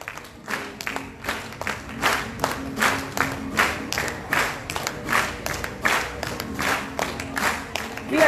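An audience claps along to a song in a steady rhythmic beat, many hands together in a live crowd, loud and sustained with the music faint beneath.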